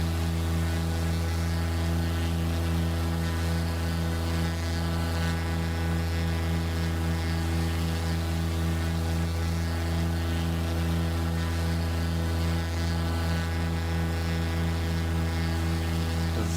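A Cessna Skymaster twin-engine plane in Microsoft Flight Simulator 2024, heard from outside the aircraft, gives a loud, constant droning engine hum with a steady buzzing tone that runs unbroken throughout.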